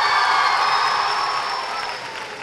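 A large audience at a talk by Prithviraj about students and exams breaks into sustained, dense applause that slowly eases off in volume over a couple of seconds.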